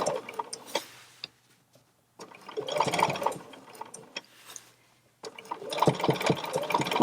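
A sewing machine quilts along a ruler on a real quilt in bursts of rapid, rhythmic stitching, with short quiet pauses between runs, close and fairly loud with no speech.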